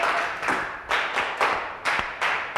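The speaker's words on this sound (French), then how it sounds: "Applaudissez." A French classroom of pupils clapping together in short, even bursts, several rhythmic rounds of hand claps at moderate distance with no talking over them.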